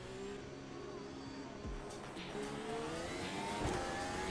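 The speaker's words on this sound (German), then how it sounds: "Motorstart." A race car engine in Automobilista 2 starts and settles into a steady low drone with rising whine, a faint voice speaking briefly over it.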